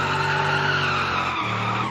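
Tyre squeal from a car sliding sideways while drifting in BeamNG Drive, a steady loud screech with engine drone underneath, holding for about two seconds and shifting pitch slightly near the end.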